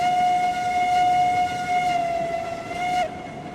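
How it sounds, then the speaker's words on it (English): A steam locomotive whistle in the video game RailRoads Online sounds one long steady loud blast with a rich harmonic tone. It cuts off sharply near the end, leaving a quieter rumble. "The whistle sounds awesome in here."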